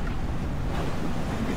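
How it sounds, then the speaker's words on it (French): Wind buffeting and waves rushing past a sailboat beating upwind in 15 to 19 knots through the channel between Ithaca and Kefalonia, a steady close roar with no speech. "15 à 19 nœuds de vent, dans le couloir entre Itac et Kefalonia."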